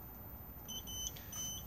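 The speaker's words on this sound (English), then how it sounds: "it's going to beep at us and we're going to get a red little error just here because the engine isn't running" An electronic beep from the fridge control panel in a 2018 Benimar Mileo 201 motorhome, signalling an error while the engine is off; short, fairly faint high tones repeat a few times over low background hum.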